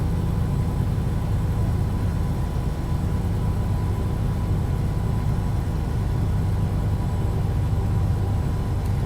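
A Detroit 12.7 liter truck engine of about 330 to 350 horsepower with a straight 10-speed, cruising near 63 mph in American Truck Simulator, gives a steady, unbroken low drone throughout, with no voices.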